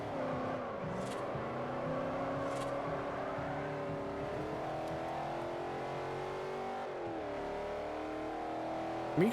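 A car engine revs in the racing game Forza Horizon 1 on PC. It climbs and falls in pitch over several seconds, a loud, continuous whine with smooth rises and a brief dip partway through. No one speaks.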